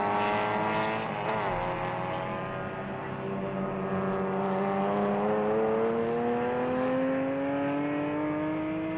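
Classic racing cars from the 1600cc Group 1 Portugal Pre-81 class, including a Scirocco and a Golf, circuit the Jarama track. Engines drone loudly and continuously, their pitch climbing steadily as they accelerate, with no talk over them.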